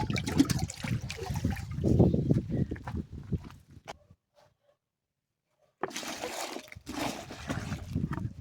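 Rainwater splashes and trickles steadily onto garden soil around a newly planted chrysanthemum for several seconds, stops briefly, then pours again, close by with no talking.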